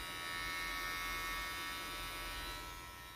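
A small electric beard trimmer runs steadily at close range, giving a continuous, fairly quiet buzzing hum with no pauses and no voices.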